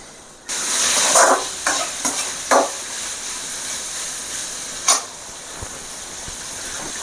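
Chayote stir-fry being stirred in a pan, a steady steamy hiss with a few short scraping bursts from the spoon, close and fairly loud, no talking.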